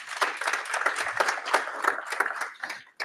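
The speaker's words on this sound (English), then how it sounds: "So big round of applause for those three." Audience at a Boston Apache Kafka tech meetup applauds, a dense, steady patter of many hands clapping for about three seconds before cutting off abruptly.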